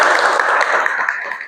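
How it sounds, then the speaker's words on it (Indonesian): Students in a classroom clap together for about a second and a half, a dense, steady patter of many hands that fades slightly toward the end. "Oke, tepuk tangan dulu."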